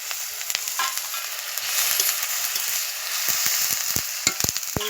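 Chopped tomato, green chilli and a little salt sizzle and crackle in a small amount of hot oil, a steady close fry with occasional sharper pops and stirring clicks, no talk.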